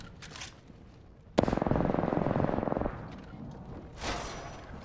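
Rapid automatic gunfire from an Apex Legends match, a dense sustained burst of about one and a half seconds, followed by a fainter shot or two later amid game ambience.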